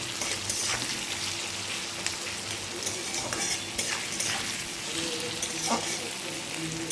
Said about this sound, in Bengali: পেঁয়াজগুলো ভাজা হয়ে যাচ্ছে।